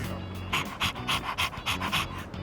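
A dog in Persona 3 Reload pants in quick, rhythmic bursts of breathy huffs, close and steady over a low background hum, with no talking.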